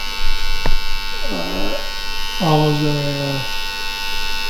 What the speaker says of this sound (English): These are very, very good clippers, guys.